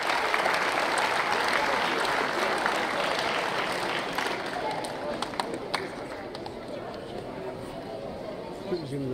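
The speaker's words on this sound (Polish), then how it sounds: "Duże brawa." Audience applause at a town ceremony honouring Olympians, dense steady clapping from a large crowd that slowly thins toward the end, with faint talk mixed in.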